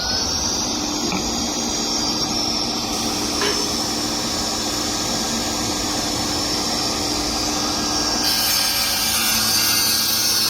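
A Festool saw cuts through wood while a dust extractor runs continuously, giving a steady loud whine and grinding roar that barely changes across the whole stretch.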